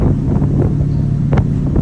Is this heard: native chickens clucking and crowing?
no